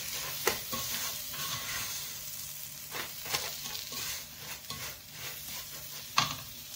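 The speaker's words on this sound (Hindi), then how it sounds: "हल्की आंच पर हम इसको भूनेंगे 4-5 मिनट के लिए। चम्मच से चलाते जाएं ताकि नीचे से लगे नहीं।" Vermicelli roasts on low heat for sheer khurma as a spoon stirs it, a faint continuous dry sizzle with repeated soft scraping strokes at a loose rhythm, close and without talk.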